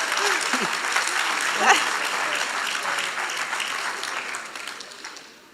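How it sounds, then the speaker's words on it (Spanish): A church congregation claps steadily in sustained applause, with a few voices and cheers mixed in before it fades toward the end. "Un aplauso."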